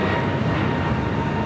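A jet airliner rolls for takeoff on runway 24 at LAX with a steady, dense roar of engine noise that holds level throughout.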